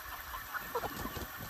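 Chickens on a hot day give faint, scattered clucks and soft calls against a steady hissing background, low and somewhat distant.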